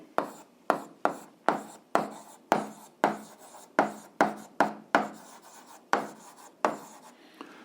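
Chalk or pen writing numbers on a board during an eighth-grade algebra lesson: about fourteen short, rhythmic scratchy strokes in quick succession, close and fairly loud, with no talk over them.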